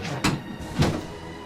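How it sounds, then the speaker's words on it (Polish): A door pulled shut inside an abandoned holiday resort at night, two dull knocking thuds about half a second apart, fairly near against quiet room tone. "wejdź do środka, zamknij drzwi"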